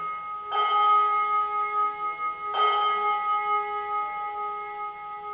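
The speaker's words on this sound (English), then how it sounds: "That's a schoolroom bell." A schoolroom bell rings twice, each strike clear and ringing on with a sustained metallic tone that slowly fades, no voices.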